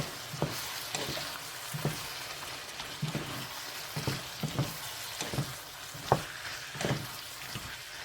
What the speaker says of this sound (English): You stir it all together, mix it well.